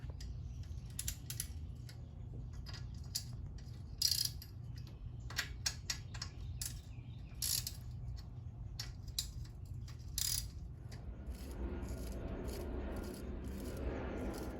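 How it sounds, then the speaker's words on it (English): Hand tools loosening the cylinder head bolts on a Yamaha PW50 dirt bike, faint scattered metallic clicks and ratchet ticks with a low background hum. "We are going to remove the cylinder head bolts in a crisscross pattern."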